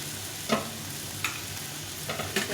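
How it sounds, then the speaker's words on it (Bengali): Vegetables for shukto fry in a pan under a constant soft sizzle, with four sharp scraping strokes of stirring spaced through it. "একটু ভালো করে ভেজে নিয়েছি সবজিগুলো।"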